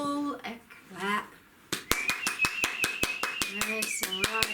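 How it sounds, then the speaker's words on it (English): Hand clapping at a spiritual Ascension gathering: brisk, evenly spaced sharp claps, fairly close, with a steady tone under them, after a few moments of voices talking. "Stephen, can you give them all a clap?"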